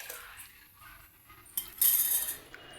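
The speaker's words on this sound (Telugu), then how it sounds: "ఈ విధంగా బాగా కలుపుకొని ఉండలు కట్టకుండా దాన్ని బాగా కలుపుకుంటూ ఉండాలి" A spoon stirring a ragi porridge mixture in a pot of boiling water, giving soft scraping swishes and a few light metallic clinks against the pot, close and fairly quiet, with a brighter scrape near the end.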